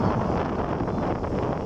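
Steady wind buffets the microphone at a crowded Alexandria beach by the sea, a dense continuous roar with no distinct events and no voices.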